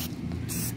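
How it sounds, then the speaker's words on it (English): Spray paint hisses from an aerosol can in short bursts as it sweeps across an orb being built, a brief puff at the start and a longer faint spray a moment later. "when of course using your spray paint, make sure you start off of the object a little bit and then sort of sweep it"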